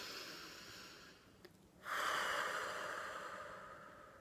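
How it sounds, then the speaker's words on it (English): A single big, deep breath drawn in and let out during an EFT tapping routine, starting after a short pause and holding as a steady, close airy rush to the end with no talk. "Big deep breath, that's really important."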